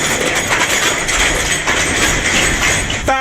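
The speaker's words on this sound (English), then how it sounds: "That was the sound of a truck going over 10 potholes in very quick succession." A truck jolts over ten potholes in rapid succession on Abbey Row, Malmesbury, Wiltshire, a dense, continuous rumble of bumps and rattles that ends in a sharp burst of clattering.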